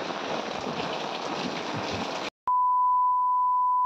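Heavy rain pours steadily as a dense, loud hiss on a farm during a thunderstorm, then cuts off abruptly and gives way to a sustained electronic beep tone.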